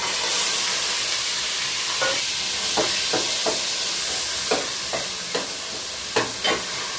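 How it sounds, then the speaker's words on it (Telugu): Onion paste frying in hot oil gives a loud, continuous sizzling hiss, close up, with several soft scrapes of a spoon stirring the pan partway through. "ఆయిల్ వేడెక్కిపోయిందండి ఇప్పుడు ఉల్లిపాయ పేస్ట్ వేసేస్తాను"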